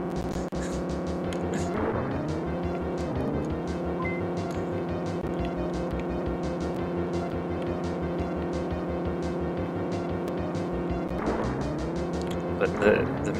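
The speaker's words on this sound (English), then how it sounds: "All you hear is the rumble of the engine." A car engine rumbles steadily in a SNES racing game prototype, a continuous low synthesized drone with two rising pitch sweeps as the car accelerates, and no music.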